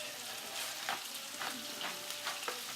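Bacon and onions fry in a little olive oil in a pan, giving a steady close sizzle with a few soft stirring scrapes and no talking.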